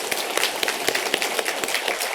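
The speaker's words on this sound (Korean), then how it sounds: "힘차게 박수로 격려하겠습니다" A Korean church congregation claps in encouragement for children who have just sung at an anniversary service, a soft, fairly steady patter of many hands at moderate distance.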